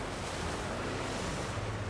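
A vehicle drives into water in the video game Jurassic World Evolution 2, with a steady, fairly loud wash of water and rushing wind throughout and no talking.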